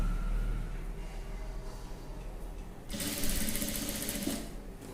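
A sewing machine stitches thin piping along a dress neckline, running steadily close up, then growing louder and brighter in a sustained burst during the second half.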